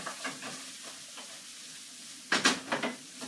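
Butternut squash, sweetcorn and sugar snap peas stir-fried in a pan, giving a low steady sizzle broken by a few scrapes and stirs, then a louder burst of clattering stirring strokes near the end.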